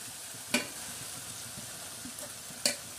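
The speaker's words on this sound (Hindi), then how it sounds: "अब इसको थोड़ा घुमा देंगे कि ये थोड़ा सा पक जाए" A spice mixture frying in a pan for a potato sabzi, being stirred: a low steady sizzle with two sharp scraping clinks of the spoon against the pan, close and clear.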